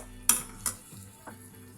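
Chicken macaroni with tomato paste stirred in a pot, two sharp clinks of a utensil against the pan followed by a softer scrape, quiet simmering underneath.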